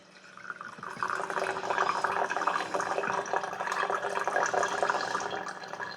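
Thick homemade elderberry syrup, just taken off the burner, poured into a strainer in a steady splashing, trickling stream that runs continuously for several seconds, close and moderately loud with small drips throughout.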